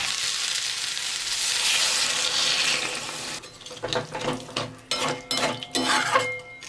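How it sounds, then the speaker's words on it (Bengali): Water is poured into a pan of spice-fried potatoes for fish-head muri ghonto. A steady sizzle gives way midway to louder, uneven splashing and bubbling bursts close by. "এবার এর মধ্যে দিয়ে দেব জল।"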